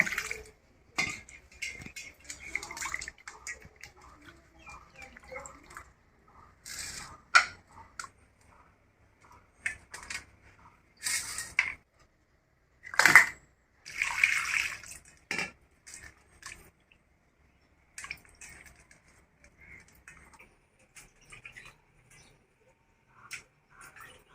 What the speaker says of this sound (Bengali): মাছটা আমি এখন ভালো করে 3-4 বার ধুয়ে নেব।